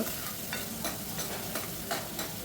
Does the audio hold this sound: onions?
yes